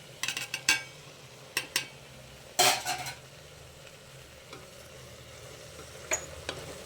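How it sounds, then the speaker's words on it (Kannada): Bottle gourd masala fries in a pan under a low, steady sizzle, broken by several sharp spatula scrapes and clicks in short bursts, close and fairly quiet. "ನೋಡಿ, ಫ್ರೈ ಆಗ್ತಾಯಿದೆ ಚೆನ್ನಾಗಿ"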